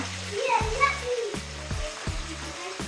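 Ginger paste sizzles and spits in a hot pan for a cook making taro stolons in mustard paste, with a voice and other talk over the steady frying hiss.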